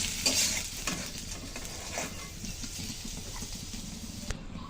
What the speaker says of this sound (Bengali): পেঁয়াজটা ভালো করে ভেজে নিলাম, এখন তুলে নিচ্ছি।